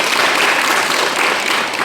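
An audience claps loudly to welcome a guest at a gathering, a dense, continuous burst of applause with no voices over it.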